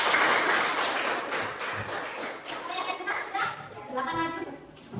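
Schoolchildren clap their hands in a classroom, sharp uneven claps and taps that fade in and out, mixed with children chattering and talking throughout.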